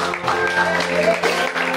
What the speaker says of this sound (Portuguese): aplaudir o Senhor Jesus Cristo